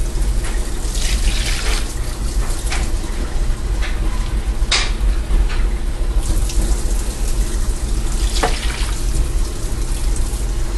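Water pours steadily into a roasting pan holding a turkey, a continuous close splashing stream with a few brighter splatters along the way.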